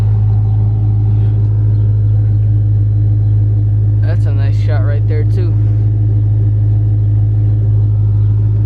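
A Dodge Charger R/T with a 5.7 engine and a 6.1 SRT manifold idles steadily with a deep, constant rumble throughout, while someone speaks briefly over it.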